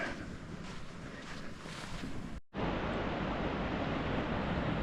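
Wind and waves roll onto a deserted beach during a winter bikepacking trip: a steady broadband wash of surf and wind buffeting the microphone, with a brief dropout midway and no talk.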